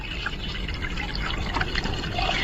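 Water poured over kudampuli (Malabar tamarind) in a pot, a steady close splashing fill with a bright liquid rush running continuously and without pause.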